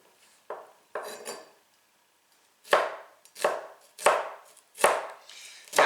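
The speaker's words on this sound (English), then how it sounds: "cut them crosswise in half, and then make other cuts to produce fairly thin slices." A kitchen knife slices vegetables crosswise into thin pieces for piperade, giving about seven crisp, close chopping strikes against a cutting board, two early, a short pause, then a steady run of five.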